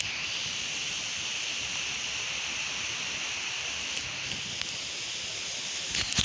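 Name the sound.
wind picking up before a thunderstorm, rustling leaves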